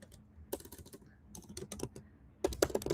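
Rapid, uneven typing on a computer keyboard, with quick bursts of crisp key clacks and short pauses between them. The sound is close and clear, and no voice is heard.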